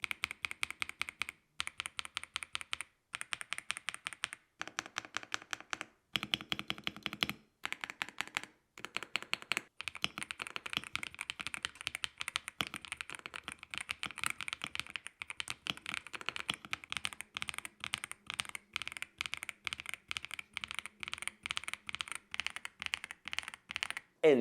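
Keys clack and click in uneven bursts on a budget wired mechanical gaming keyboard, with bursts of rapid typing separated by short pauses, close and fairly quiet.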